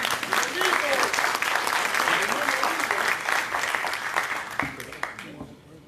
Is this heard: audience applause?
yes